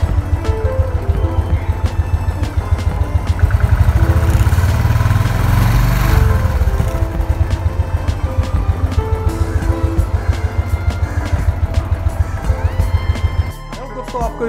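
A Royal Enfield motorcycle engine runs steadily close by with a deep, even thumping idle throughout, loud and constant, dropping away abruptly near the end.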